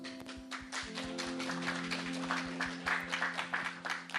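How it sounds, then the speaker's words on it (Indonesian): Guests at a wedding ceremony clap together, a steady patter of hand claps that builds and grows louder toward the end, with a sustained hum of room sound underneath. "Kita kasih aplaus."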